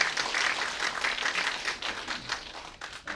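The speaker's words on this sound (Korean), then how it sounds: "더 크게 박수 한번 부탁드리겠습니다" Audience applause at the opening of an election campaign office in Gangneung, a full burst of many hands clapping that gradually thins and fades toward the end.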